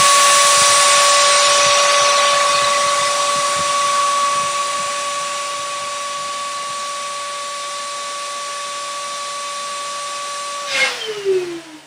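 A Shishavac hookah cleaner blower runs loud and steady, a whining motor with a sustained tonal hum and rushing air, then winds down near the end.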